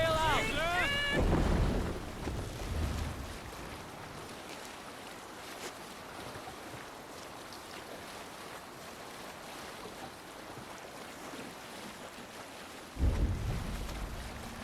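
A longship cutting through the sea in Assassin's Creed Valhalla, steady wash of waves and wind rushing past the hull, with brief shouted voices at the start and end.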